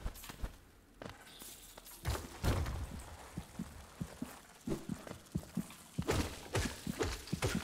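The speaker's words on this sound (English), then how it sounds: "Oh, that's what the heartbeat noise is, of course." Heartbeat sound effect from the video game Hollow Knight, a series of soft low thumps that pulse irregularly over about eight seconds, separated by quiet gaps, with nobody speaking.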